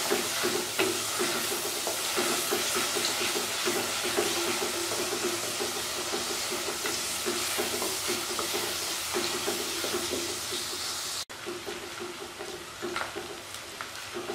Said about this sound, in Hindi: तो इसी तरह हम इसको चम्मच चलाते हुए फ्राई कर लेंगे